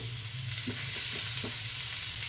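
Onions frying in oil in a pan over low to medium heat, a steady soft sizzle with a few faint stirring scrapes, close and continuous with no talking.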